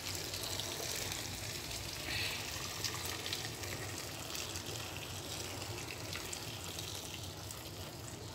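Freshly boiled water pours into a cooking pot for crocodile meat soup in a steady, continuous rushing stream that lasts several seconds, close and fairly loud.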